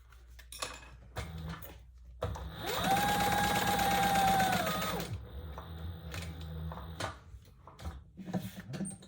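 A sewing machine stitches a purse in one sustained burst of steady, rapid whirring, loud and close, with quieter handling clatter before and after.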